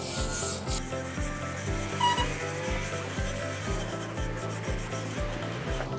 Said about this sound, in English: So we'll just use the scrubbing brush.